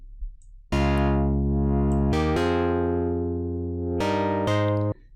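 A sustained synthesizer chord plays alone in several held notes, its tone sweeping brighter and darker as a filter moves on its own.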